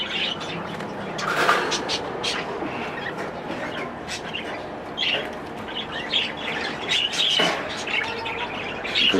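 Pet birds in a breeding cage chirp, tweet and squawk repeatedly over a busy, continuous background of cage rustling and fluttering, with calls close and fairly loud.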